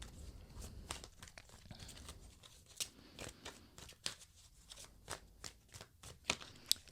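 Tarot cards being shuffled during a reading, a run of crisp riffling and flicking bursts at an uneven rhythm, close and fairly quiet with no talking.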